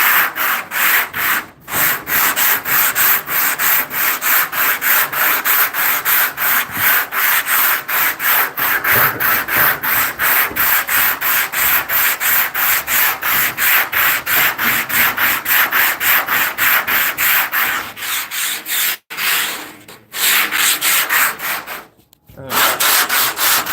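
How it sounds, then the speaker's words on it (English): Hand sanding on car fender bodywork to even out low points makes rapid, rhythmic back-and-forth rasping strokes, loud and close, running continuously with a few brief pauses near the end. "I got to get all those low points sanded out evenly the best I can"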